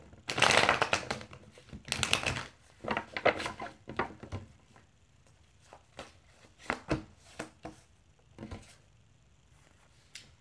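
Tarot cards riffle and slap in quick bursts, with softer shuffling and tapping in between, close and fairly quiet.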